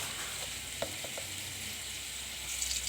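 Potatoes fry in a pan with freshly added chopped ginger. The steady, even sizzle runs throughout, broken by a few light knocks of stirring, and no one speaks.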